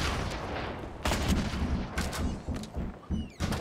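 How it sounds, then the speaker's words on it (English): Gunfire in the video game Fortnite, rapid bursts of shots in a loud, dense fusillade with several sharp impacts, near and continuous, with no voices over it. "someone's shooting at us"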